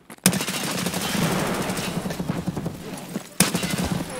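Automatic gunfire in an Escape from Tarkov raid on the Labs map: a close, loud stream of rapid shots lasting about three seconds, followed by a short pause and one more sharp burst near the end.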